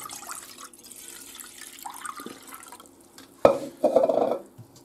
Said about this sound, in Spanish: Para hacer los huevos escalfados hay que echar agua.